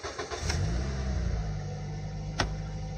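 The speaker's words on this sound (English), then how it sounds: "Let's start the engine." A Toyota car with an automated manual gearbox and a dashboard fault cranks and its engine catches, turning over briefly before a low steady hum continues, heard close and fairly quietly.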